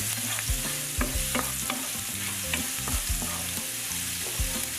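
Garlic fries in a pan of shrimp over lowered stove heat, a steady sizzle running throughout with repeated stirring scrapes and clinks, close and fairly loud.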